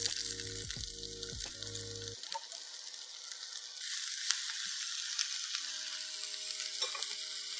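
A whole bowl of vegetables hits hot oil in a cast iron skillet for a plant-based breakfast, giving a steady, close, broad sizzling hiss that stays even after some clinks at the start, with no talking.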